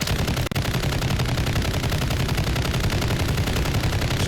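Sustained automatic fire from a RAAL MG light machine gun in a video game, aimed down sights, as a dense continuous rattle of rapid shots running loud and close through the whole stretch with one brief gap near the start.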